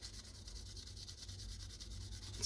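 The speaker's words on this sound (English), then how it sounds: "And again, you are incredibly lightly sanding." Light, steady sanding rubs across an SKS rifle stock handguard, a soft, even scratching with a regular back-and-forth rhythm heard up close.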